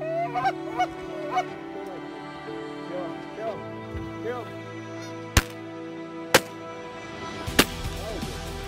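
Close, loud honking from a flock of geese flying in low over decoys during a goose hunt. Several sharp shotgun blasts ring out among the calls.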